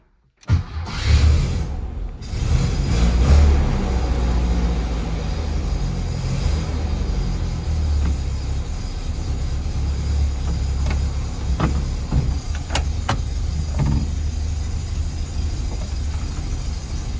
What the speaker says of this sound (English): Let's take it on a final test drive real quick and pull it in here